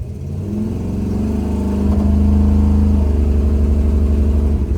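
A 1969 Chevrolet Nova 454 big block, a Yenko SYC tribute with posi rear, accelerates hard. The loud close engine drone climbs steadily in pitch, then levels into a sustained roar.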